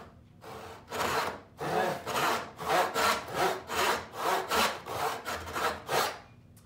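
A hand saw cuts through wood trim in about ten steady back-and-forth strokes, each a loud rasping rush heard up close, with no talk.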